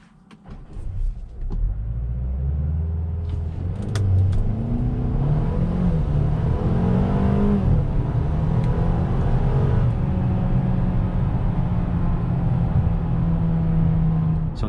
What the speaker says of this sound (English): let's go ahead and brake boost this GLA and see how it does